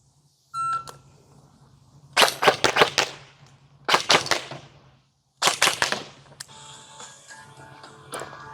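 An S&T UST45 airsoft gun fires three quick bursts of sharp snapping shots, each a tight cluster, separated by short pauses, with a faint electronic beep and hum between them.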